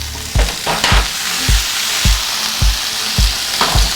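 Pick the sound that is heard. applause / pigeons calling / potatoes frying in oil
potatoes frying in oil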